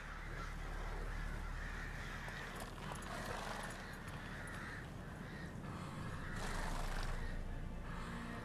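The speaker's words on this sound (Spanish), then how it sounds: "Oh, qué bonitos cuervos." Crows caw repeatedly in The Witcher 3, a few harsh calls rising over a steady outdoor ambience with a low constant rumble, moderately close and spaced irregularly.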